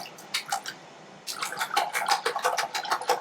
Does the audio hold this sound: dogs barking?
no